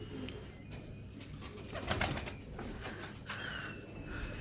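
A pair of black-faced Dubai pigeons coos in a loft, the soft, low coos faint against a steady background hum, with a brief flutter of wings near the middle.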